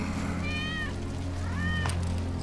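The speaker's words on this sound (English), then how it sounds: "That's Wedge's cat." Cat in the video game Final Fantasy VII Remake meowing twice, two distinct rising-and-falling meows over a low game ambience hum.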